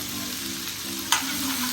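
Green tamarind pods, green chilies, coriander, mint and fenugreek crackle in a pan for a Telangana tomato pachadi, a short steady sizzle close by, broken once by a sharp stirring clink.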